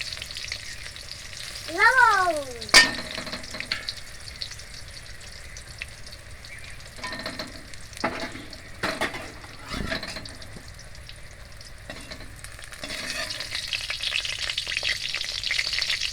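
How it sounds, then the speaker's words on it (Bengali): Pointed gourd (potol) pieces fry in oil in a home kitchen, a continuous close sizzle with occasional clinks and stirring knocks, and a faint bird-like chirp early on, with no speech. "কিছুটা পটল ভাজা হয়ে গেল, আর কিছুটা ভাজা হলে একটা একটা করে পটল তুলে নেব।"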